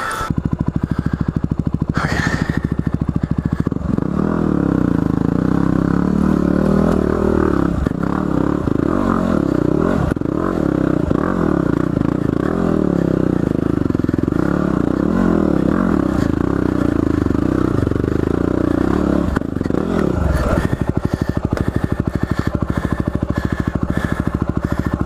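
A motorcycle engine revs hard and clatters continuously on a rough adventure ride, loud and close throughout with scraping, rattling mechanical noise and surging throttle.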